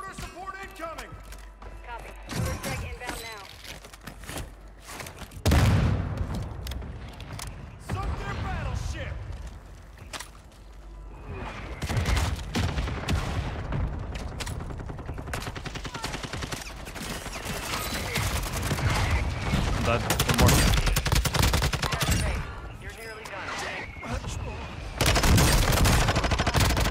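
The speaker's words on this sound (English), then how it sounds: "Mortar support incoming." Mortar strikes and gunfire in Warzone 2 on Ashika Island: bursts of automatic fire and heavy booming impacts come and go throughout, loud and close, with players talking over the battle.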